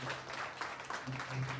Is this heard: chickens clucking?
no